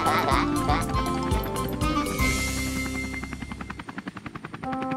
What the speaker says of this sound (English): it's time for the helicopter to land